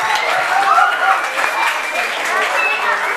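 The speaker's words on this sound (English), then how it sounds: "Let's hear it for Patrick Crowley for directing the Pink Floyd show." Audience applause at a School of Rock senior recognition event honoring the director of a Pink Floyd show, a dense, steady wash of clapping with some crowd noise mixed in throughout.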